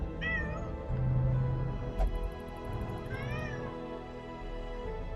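A cat in the video game Darkest Dungeon meows twice, plaintive wavering calls with a thump between them over a low ambient game drone, moderately loud, with no talk.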